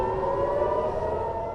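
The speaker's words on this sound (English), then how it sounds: "with sirens blaring and air defenses intercepting the projectiles." Air raid sirens blare across Israel during an Iranian missile attack, a steady, loud, sustained wail holding one pitch with a rumbling low background.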